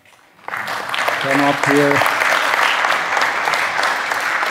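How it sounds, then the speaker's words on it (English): Conference audience applauding at a Magnolia software conference, a steady mid-loud wash of clapping that builds quickly and holds, with someone speaking briefly over it. "Please applaud."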